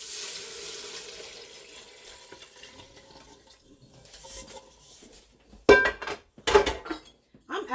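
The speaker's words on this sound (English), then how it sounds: "so now we're going to add the liquid back in." Liquid being poured back into an Instant Pot for turtle soup, a quiet trickle at first, then a few louder splashing pours and clinks near the end.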